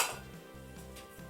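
A melamine or ceramic plate handled among new tableware: soft clinks and scraping contacts of dishware, quiet and close, over a steady low background hum, with no talking.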